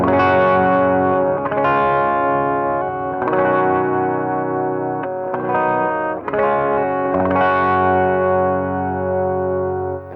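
A distorted electric guitar plays a sustained riff through a Soldano Atomic 16 tube amp with a Vintage 30 speaker, chords ringing out and changing several times, loud and full with a little echo.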